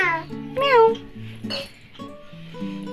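A cat meows a few times in a home setting, its short calls mixed in with a person speaking close by.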